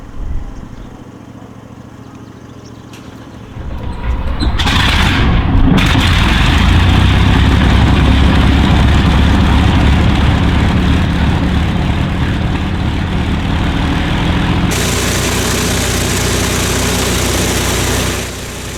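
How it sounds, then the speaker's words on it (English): An Avro Lancaster's piston aircraft engine cranks and catches, swelling into a loud, steady rumbling roar that continues, with a brief shift in tone near the end. "Flight engineer starts the engines."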